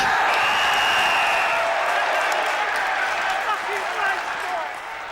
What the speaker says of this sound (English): to what amounts as polite applause